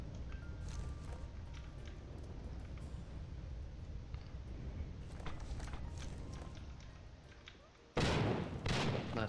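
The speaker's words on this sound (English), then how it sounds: "I'm gonna throw a grenade to see if that works." A grenade goes off in a video game, one sudden loud broadband blast near the end after a stretch of steady battle noise with scattered thumps and shots.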